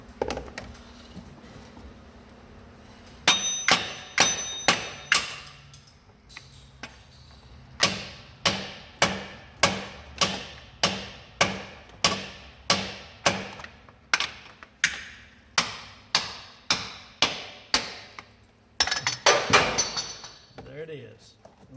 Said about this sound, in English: Sometimes you might just have to use a heavier hammer.